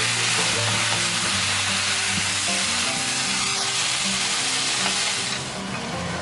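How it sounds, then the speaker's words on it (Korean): Spicy red pork stir-fry with gochujang and chili flakes sizzles loudly and continuously in a pan, with steady frying crackle and stirring scrapes close up, no talking. "볶으시면 빨간 제육볶음이 되네요."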